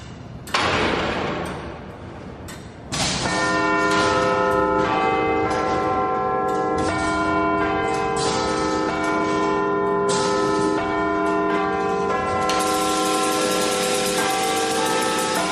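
Victorian clock chime bells ring out in a long, loud sequence of sustained tones, with a soft knock before the full peal swells and rings on near the listener without talk.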